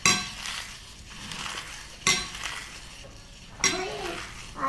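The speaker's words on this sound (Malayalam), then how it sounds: "ഈ 3/4 കപ്പ് കോൺഫ്ലേക്സ് നമ്മൾ ഇതുപോലെ ഒന്ന് ക്രഷ് ചെയ്യും" Cornflakes being crushed by hand for KFC-style fried chicken coating, heard as three sharp crunching bursts about two seconds apart, each followed by softer rustling crackle, close and loud with no talk.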